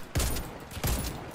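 Two booming shots from a Marlin 1894 Custom shotgun in the Warface video game, spaced well under a second apart, each a sharp, heavy blast with a short ringing tail over a quiet background.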